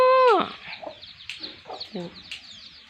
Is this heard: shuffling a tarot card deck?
no